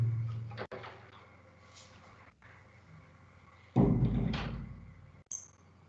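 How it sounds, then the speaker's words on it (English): A door being closed in an IoT lab demonstration, a faint low thump near the start and a louder thud partway through over steady background hum. "Close the door now."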